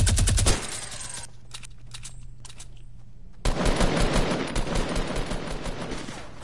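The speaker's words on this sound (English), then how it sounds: "Bro, don't use a minigun." A minigun firing in an online shooter game, a loud, rapid stream of gunfire that cuts out into a quieter stretch of scattered shots, then roars back into another sustained burst.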